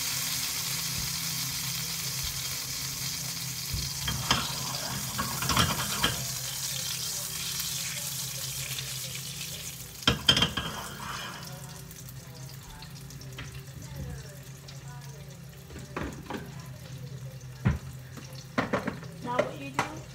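Food cooks in a pan with a low steady sizzle, punctuated by occasional clanks and scrapes of stirring; no one speaks.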